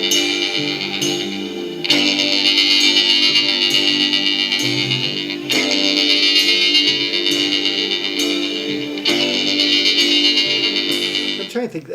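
Loud, sustained distorted guitar chords with heavy echo and reverb, swelling in repeated long blocks with short breaks between them.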